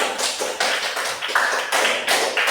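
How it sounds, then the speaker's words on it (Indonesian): Fifth-grade classroom students clapping for their group, sharp rhythmic bursts of claps in distinct waves, close and loud, with no talking over them. "Tepuk tangan untuk kelompok kalian"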